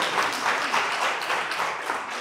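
Audience applause at a talk on treating body-image dissatisfaction in therapy, a dense, steady clatter of many hands clapping that holds at a fairly loud level throughout.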